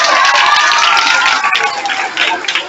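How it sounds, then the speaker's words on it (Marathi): Crowd of spectators at a community outreach event in a slum area clapping and cheering loudly, a dense steady roar of hands with voices mixed in throughout. "आपण प्रथम जोरदार टाळ्या देऊया."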